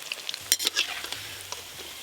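Food fries in a pan with a quiet hiss under a few quick scraping stirs and light metal taps, close and brief.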